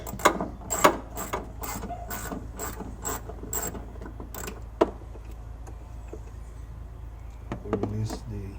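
Ratcheting clicks from a socket wrench loosening the couple of bolts on the oil filter cover of a 2012 Toyota Crown Athlete 3.5, in quick bursts early on, then sparse clicks over a low steady hum.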